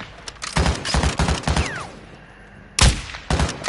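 Gunfire in an online shooter video game, rapid bursts of automatic fire close and loud, pausing briefly before a second burst.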